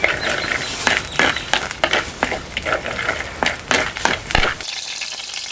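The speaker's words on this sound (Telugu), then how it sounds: "ముందుగా 2 చెంచాలు నూనె వేసుకుని పల్లీలు వేయించుకుందామండి" Peanuts frying in two spoons of hot oil for lemon rice, a close, steady sizzle broken by repeated scraping and stirring clatters of a spoon against the pan, stopping abruptly near the end.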